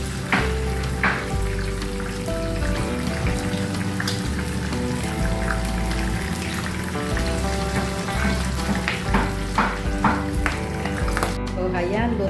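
Chicken fries in hot oil with a loud, continuous crackling sizzle that stays steady and close throughout, with a few brief clinks of utensils.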